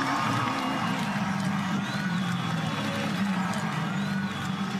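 Race crowd at the V8 Supercars Gold Coast 600 in 2015 cheering a New Zealand driver, a steady, dense wall of crowd noise with cheering mixed into constant track ambience, loud and continuous throughout.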